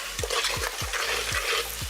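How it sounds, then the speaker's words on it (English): A spoon stirs masala with coriander and mint leaves in a pan for a vegetarian curry, five rhythmic scraping strokes over a constant sizzle, close and fairly loud with no talk. "Give it a nice mix."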